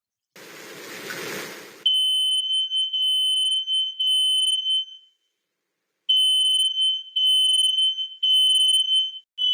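A smoke alarm on a first floor shrieks in a steady high-pitched tone after a stove burner sets something on fire, pulsing in repeated bursts, cutting out for about a second, then resuming, loud and close.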